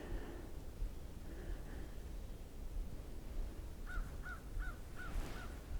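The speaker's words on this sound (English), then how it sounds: "The crows are out" Crows caw on a snowy Cape Cod shore, a couple of distant calls early, then a quick run of five harsh caws, all faint over steady wind and surf noise.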